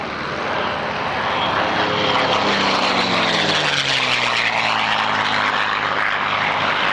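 A P-51D Mustang with a 1,650 horsepower Packard-built Rolls-Royce Merlin engine roars overhead at an airshow, loud and continuous, its propeller drone rising and sweeping in pitch as it passes close by.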